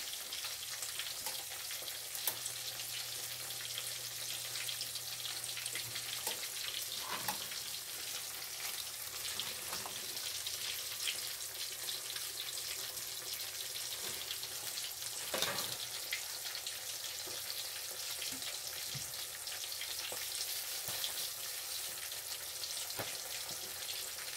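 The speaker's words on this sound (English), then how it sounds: "it tastes better with the vegetable oil when you're frying with vegetable oil" Chicken sizzles and crackles in hot vegetable oil, a steady, fairly quiet frying hiss with occasional pops and stirring.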